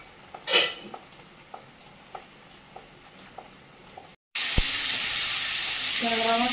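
Tangra fish frying in a pan: quiet background with faint ticks first, then a loud, dense sizzle bursts in suddenly and carries on steadily and close.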